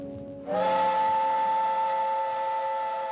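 An old Swiss paddle steamboat's steam whistle starts abruptly after a short hiss and holds a steady, loud, chord-like tone without pause to the end.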